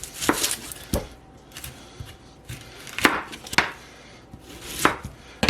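A knife chops a red onion on a cutting board in a handful of sharp, separate thuds spaced irregularly, close and clear over a quiet room with no talking.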